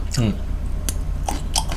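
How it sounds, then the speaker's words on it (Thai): Crunchy bites and chewing at close range as spicy Thai-style food is eaten, a few crisp crunches spread across the moment, with a brief bit of voice early on. "กัดก๊อบก๊อบอยู่นะ"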